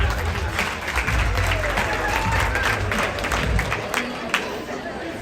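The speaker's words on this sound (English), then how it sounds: "give yourselves a round of applause." A crowd claps loudly and continuously, a dense, steady wash of applause filling the room with scattered voices mixed in.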